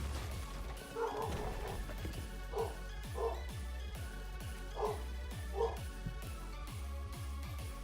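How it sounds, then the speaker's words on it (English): Several dogs bark at the door indoors in repeated sharp bursts with short gaps, fairly close and loud, with a few yips mixed in. "Just stop barking at the dang door or outside noises."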